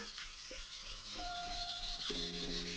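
A kitchen knife drawn across a fine-grit whetstone, giving a quiet, steady scraping rub with a few brief tonal squeaks, close and alone with no speech.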